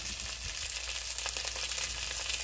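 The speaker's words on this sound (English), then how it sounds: "Susan's already got them cooking over here" Gourmet sausages from Crimea Quality Meats sizzle and fry steadily in a pan for a curry dish, a dense continuous crackle with small pops, close and alone without talk.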